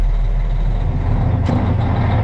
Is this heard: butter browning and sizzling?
no